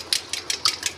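Yogurt and cream whisked into a chicken karahi, five or six quick scraping strokes in a steady rhythm, close and fairly crisp.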